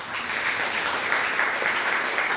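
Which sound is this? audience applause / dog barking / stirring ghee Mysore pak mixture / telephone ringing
audience applause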